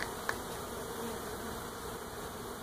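Steady buzzing of many bees coming and going at a hive, a constant low drone with a faint tap near the start.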